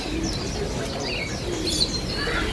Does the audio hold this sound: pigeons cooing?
yes